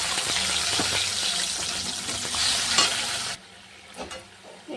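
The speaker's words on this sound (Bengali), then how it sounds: "এবার মশলাটা দিয়ে দিলাম" Spice masala with cardamom, cinnamon and cloves is stir-fried with fried paneer in a pan, making a loud close sizzle with repeated scraping stirs that suddenly drops to a quiet clatter near the end.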